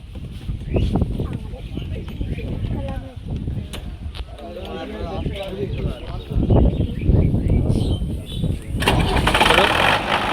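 A diesel generator cranks and starts up at an outdoor sound check for a 15-inch speaker setup, its engine rumble rising steadily amid crowd chatter and people talking nearby, with a broadband burst near the end.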